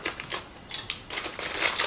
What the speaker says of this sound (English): my jasmine rice doesn't have a little notch to open it, so that's why my scissors are here